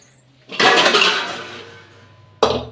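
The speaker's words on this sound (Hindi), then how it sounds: "तो अब निकालती हूँ मैं सबसे पहले कुकर।" A pressure cooker is pulled out in a home kitchen. Loud metal clattering and clanking bursts in, then fades over about two seconds before a final sharp knock.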